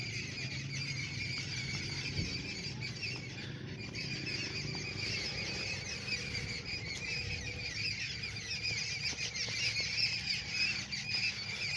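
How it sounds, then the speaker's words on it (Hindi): Many birds call and squeal continuously in a village setting, a dense chorus of bright chirps and squawks filling the whole stretch at steady moderate loudness, with no talking. "हमारे गांव में परिंदों की खूबसूरत आवाज़ें, ये खेल रही हैं लगता है।"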